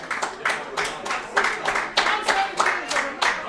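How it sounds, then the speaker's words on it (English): Members of a varsity boys basketball team clap their hands in a small group, quick ragged bursts of claps repeating in a loose rhythm nearby. "so I got 5 people clapping"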